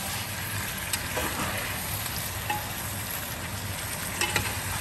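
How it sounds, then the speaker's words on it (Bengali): Mutton for Bengali kosha mangsho sautés in its own released juices over a high flame, a dense continuous sizzle with occasional soft knocks from stirring. "মাংস থেকে কিন্তু একটু জল বেরোচ্ছে, আর এই জলেই আমি কষাবো আরো"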